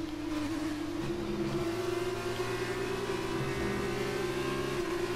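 F2 race car engines in the F1 2019 video game hold a steady, buzzing high-revving drone with slight pitch shifts as cars run in close formation, continuous and without speech.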